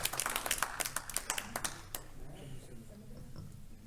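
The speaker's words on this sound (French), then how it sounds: "Un grand applaudissement" A municipal audience in a French village hall applauds an honoree with brisk, close clapping that is strongest at first and fades out after about two seconds, leaving quiet room tone and a faint voice.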